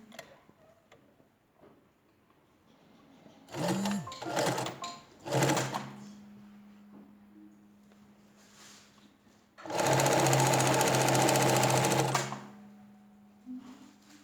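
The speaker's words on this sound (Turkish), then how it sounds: "oradan deri olduğu için tek kat yaparak iç dikişini yapıyorum" A sewing machine stitches a single-layer leather pocket seam in two bursts, a short one and then a longer steady rapid whir, with quiet handling sounds and pauses between.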